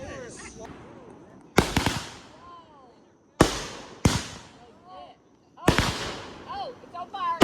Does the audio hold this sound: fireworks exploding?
yes